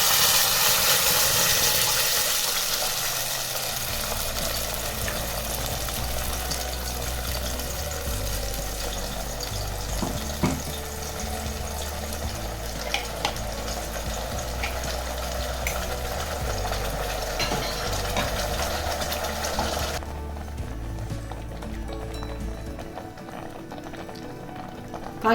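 Ground tomato paste fries in oil in a pressure cooker, giving a steady loud sizzle and bubbling with occasional stirring scrapes, close by and uninterrupted, quieter toward the end.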